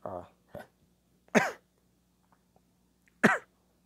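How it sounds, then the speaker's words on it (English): A few sharp, close coughs or throat-clears, separated by short pauses in an otherwise quiet room. "I made the cough on the air"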